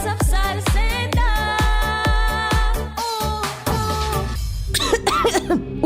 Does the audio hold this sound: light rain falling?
no